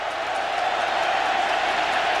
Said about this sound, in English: Mark Richt was urging the crowd to get the noise level up